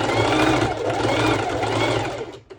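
Sewing machine stitching through four layers of fabric for a one-shoulder twisted knot top, a loud, continuous close whirring drone that slows and stops near the end.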